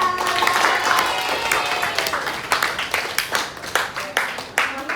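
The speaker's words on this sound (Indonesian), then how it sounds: "Tepuk tangan semuanya." A classroom of vocational accounting students at a Jakarta school breaks into applause, dense clapping that starts full and then thins into separate, uneven claps as it fades.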